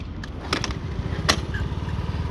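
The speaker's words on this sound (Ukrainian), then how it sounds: "це треба його завести, заодно перевіримо, як заводиться з кікстартера" A Honda Dio AF68 scooter from Japan, started with its kickstarter, runs with a rapid, steady small-engine putter up close, with a few sharp clicks and knocks over it.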